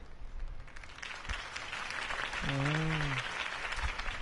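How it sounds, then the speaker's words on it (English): Crowd applause at a Harvey Dent campaign rally in the Batman Telltale Series video game, a steady wash of clapping that swells midway with a voice briefly rising over it. "If only Mr. Wayne, my campaign's largest backer, could have heard that applause"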